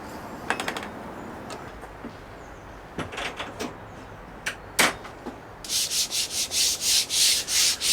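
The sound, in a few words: rubbing down wood on a cabin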